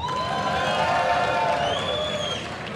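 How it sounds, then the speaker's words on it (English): Live esports audience at WCS Valencia 2018 StarCraft II semifinals cheering for ShoWTimE, a sustained roar of shouts and cheers with scattered whistles filling the hall, steady and moderately loud before tapering slightly at the end. "Who here is cheering for ShoWTimE?"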